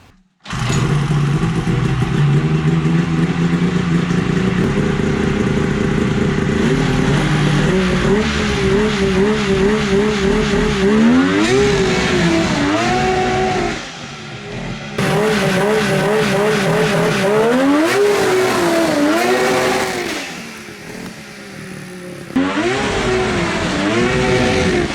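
A mini Baja Bug project car roars as its engine revs hard and repeatedly while it pulls out of a shed, loud and close, with rising and falling revs and brief dips between throttle bursts.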